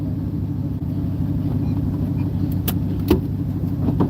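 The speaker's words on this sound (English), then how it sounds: "it sounds like they've got a safety car out there right now checking the course." A safety car runs a race course with a steady, droning engine rumble that holds constant and fairly loud throughout, with a few faint clicks and brief higher tones on top.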